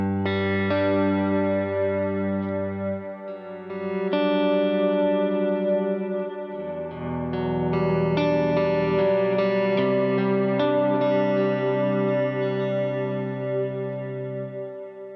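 Sustained electric guitar chords swell and blend into washes of lush cloud-setting pedal reverb, slowly shifting between harmonies with long, airy tails.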